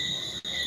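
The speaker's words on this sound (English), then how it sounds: "Them cricket really loud." Loud, steady chirping of crickets, a dense continuous trill that stays close and constant with only a momentary dip, and nobody talking over it.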